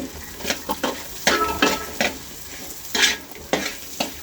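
Pieces of pre-cooked beef are fried in a pan and stirred, with a steady sizzle broken by repeated scraping bursts of the spoon against the pan.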